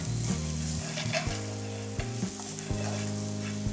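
Garlic sautés in a pan with steady sizzling and frying noise, punctuated by repeated stirring scrapes and clanks throughout.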